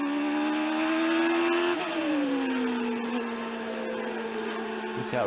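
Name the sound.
Formula One car engine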